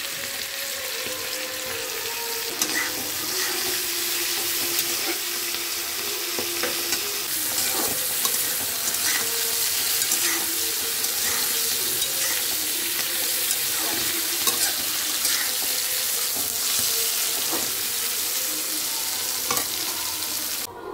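Cut eggplant goes into hot oil with turmeric and fries in a loud, continuous hissing sizzle with light crackle and stirring scrapes, close up and steady for about twenty seconds.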